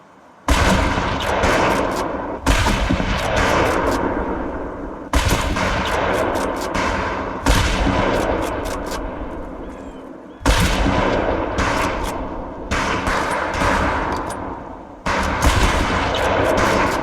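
Scoped rifle shots at long-range targets on a shooting range in Medal of Honor: Pacific Assault: loud, evenly spaced single cracks, about six or seven, each trailing off in a long echoing decay, with no voices.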